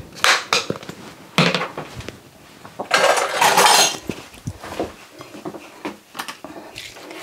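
Tuna sandwich filling being stirred with mayonnaise and garlic powder in a bowl, giving repeated close clinks and scrapes of a utensil against the dish in irregular bursts, with no talking.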